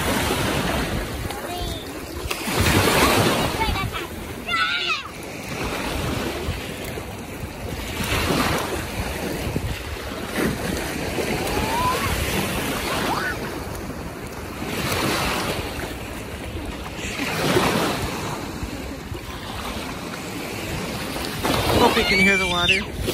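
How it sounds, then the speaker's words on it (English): Lake water waves at Tawas City, Michigan wash in and out in repeated surging swells, close and fairly loud, mixed with gusty wind noise and faint background voices. "Hope you can hear the water."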